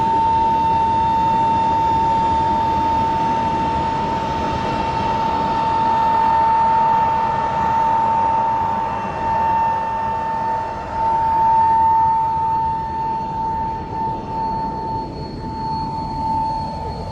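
Two vintage Beech aircraft taxiing onto the runway at an airshow, a loud continuous engine drone with a steady high whine, swelling and fading slightly as they move, no speech.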